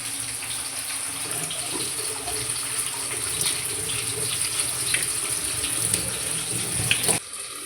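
Water runs steadily from a kitchen tap, a close continuous gushing that cuts off abruptly near the end.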